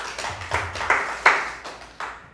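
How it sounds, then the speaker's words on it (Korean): A church congregation claps their hands in a handful of sharp, separate claps. The claps are loosely timed, moderately loud and close, with no talking over them. "박수를 치세요."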